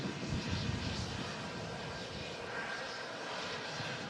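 Royal Jordanian Airbus A320 jet engines produce a steady broadband roar that holds evenly for the whole stretch, moderately loud and unbroken, with no voices over it.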